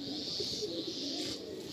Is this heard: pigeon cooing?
yes